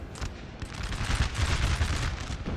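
Napoleonic-era artillery in a Total War 3 multiplayer battle, a dense cluster of overlapping booms and crackling reports rolling together into a continuous rumbling barrage, moderately loud with no voices.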